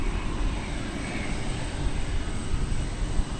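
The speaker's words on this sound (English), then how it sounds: "It'll be a Dreamliner 787-8." An American Airlines Boeing 787-8 Dreamliner arriving at DFW Airport from Buenos Aires gives off a steady, broad engine roar, moderately loud and continuous with no voices over it.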